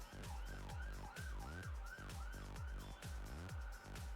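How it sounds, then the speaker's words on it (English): Wailing emergency sirens inside a multiplayer video game, rising and falling in a fast repeating cycle, loud and continuous with no one talking over them. "Okay, who unleashed the sirens?"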